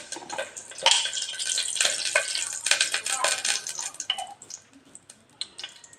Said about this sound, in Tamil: கொஞ்சம் எண்ணெய் ஊற்றிக்கலாம்